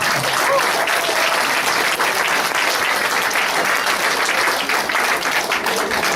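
An audience at a 25th-anniversary celebration of the Himalaya Seniors of Quebec gives a sustained, loud round of applause, with dense clapping throughout.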